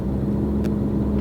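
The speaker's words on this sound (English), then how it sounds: "Let me try and rev." A Range Rover engine with a suspected fuel-starvation fault is revved, holding a steady, loud, droning hum with no clear rise in pitch over the short stretch.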